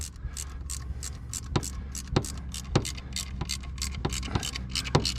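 A hand ratchet tightens the cover bolts on a 2023 XMR 1000 during an oil change, giving a steady run of sharp metallic clicks with a few stronger clacks spaced about half a second apart. It is close and has no talking.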